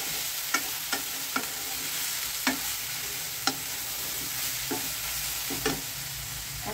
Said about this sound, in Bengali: এবার এটাকে একটু নেড়ে চেড়ে দিচ্ছি